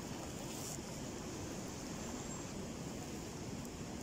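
River water flows in a steady, unbroken rush that stays fairly soft and even from start to finish, with no voices over it.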